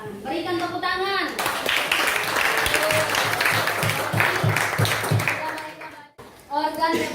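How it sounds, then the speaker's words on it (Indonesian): Students in a classroom give a round of lively, rhythmic applause lasting several seconds, bracketed by a voice speaking before and after the clapping. "Berikan tepuk tangan."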